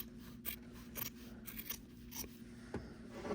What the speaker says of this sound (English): I'm going to go ahead and trim this lining a little bit more small.